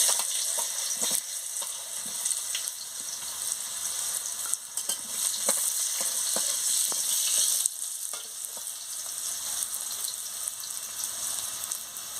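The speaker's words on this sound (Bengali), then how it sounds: "এবার আমি আলুটা আর গাজরটা একসঙ্গে ভেজে নিচ্ছি।" Potatoes and carrots fry in hot oil with a loud, steady sizzle, broken by scattered pops and crackles throughout.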